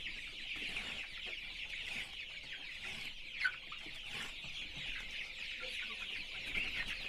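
Chickens clucking steadily throughout a poultry house with maize bran, sawdust and manure litter, a dense continuous chorus of many birds at moderate distance with one brief louder squawk midway.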